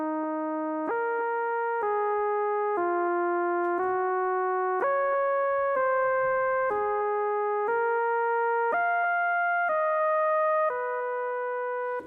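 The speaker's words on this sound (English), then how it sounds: "it sounds like a theremin almost to me, but it's this kind of spooky melodic intro" A spooky, theremin-like synth lead plays the melodic intro of a cover on keyboards: a smooth, sustained tone steps through a slow sequence of held notes with gliding changes, steady and unaccompanied.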